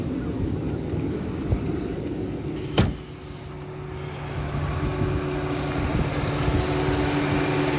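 A 2004 Lincoln Town Car engine idles smoothly and steadily, a low even hum with no misfires, heard close by. One sharp click or tap stands out briefly in the middle.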